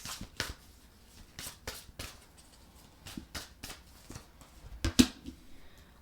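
Tarot cards being shuffled in short riffling bursts, spaced irregularly, close and fairly crisp, with quiet pauses between.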